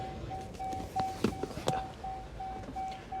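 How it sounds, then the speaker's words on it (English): A 2025 Dodge Charger Daytona electric muscle car beeps repeatedly while powering up: a steady series of evenly spaced short electronic tones, close and clear, over a faint background rustle from inside the cabin. "I apologize for the beeping noise."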